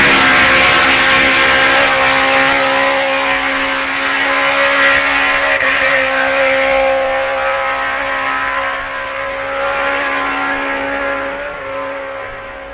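A racing motorcycle, likely a Matchless-era machine, runs at about 95 mph on a lap in foul weather, its engine a loud, continuous high drone that swells and fades slightly as it passes.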